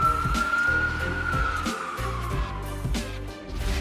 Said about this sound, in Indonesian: kendaraan prioritas ini harusnya diberi ruang saat sirenenya udah berbunyi